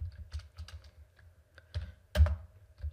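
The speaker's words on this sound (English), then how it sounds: "Type in command" Typing on a computer keyboard while entering a Kubernetes init container command: several quick, uneven bursts of clicks and taps, with a sharper keystroke near the end, fairly close and moderately quiet.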